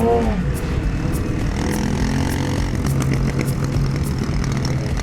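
A vehicle with a loud aftermarket exhaust revs in town on a spring day, a throaty engine rising and holding steady nearby over street noise, with no talking.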